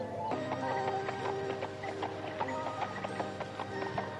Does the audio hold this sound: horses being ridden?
yes